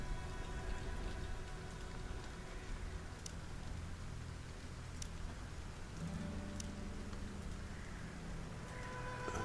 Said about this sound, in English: Got a bit of rain.